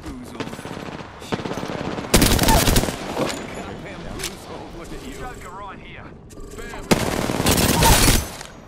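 Gunfire in a ranked online shooter game, with long bursts of rapid automatic fire and scattered single shots, loud and close, alongside game effects and a player talking.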